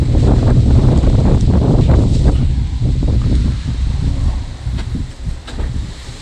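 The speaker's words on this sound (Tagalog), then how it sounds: "dami na nang alaglag kasi ang lakas ng hangin" Strong gusty wind buffets the microphone in loud, rumbling bursts that ease slightly toward the end, with some rustling underneath.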